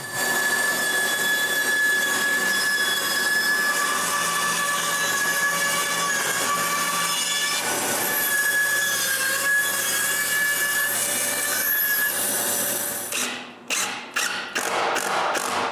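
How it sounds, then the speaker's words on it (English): A bandsaw roughly cutting shapes from an old pine countertop, a loud steady broadband whine running continuously for about thirteen seconds before breaking into short stuttering bursts as the cut ends. "I can trace the shape of the spinner on this old pine countertop and roughly cut their shapes on the bandsaw"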